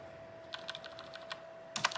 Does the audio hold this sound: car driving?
no